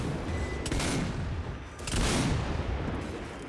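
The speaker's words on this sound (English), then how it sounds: "Cover me, I'm going to blow it up. Here we go, fire in the hole!" A loud explosion from the video game Zombie Army 4: Dead War: two heavy booming bursts with crackling blast noise, the second stronger and longer, over continuous game background rumble.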